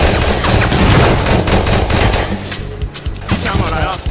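Sustained machine gun fire in a VR shooter video game: loud, rapid rattling bursts that thin out toward the end, with voices talking over the shooting.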